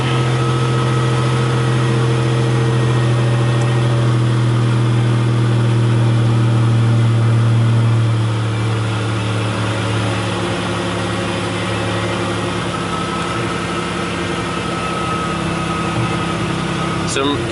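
Buick Grand National engine running rough and choppy after start-up, a steady low drone with uneven loping, loud and close, with a shift in tone partway through and talk over it.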